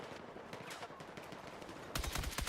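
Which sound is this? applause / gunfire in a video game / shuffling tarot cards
gunfire in a video game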